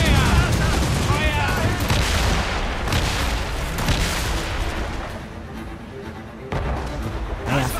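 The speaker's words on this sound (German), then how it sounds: "Kanone bereit! Feuer! Feuer!" Ship cannons in Assassin's Creed Rogue fire in a dense, booming volley, with heavy rolling blasts layered together and a voice talking over the barrage.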